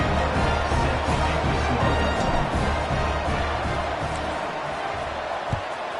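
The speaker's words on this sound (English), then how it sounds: "this crowd is buzzing after that last score" A large football stadium crowd buzzes after a score, a dense, loud, continuous roar of many voices with faint scattered clapping, steady from start to finish.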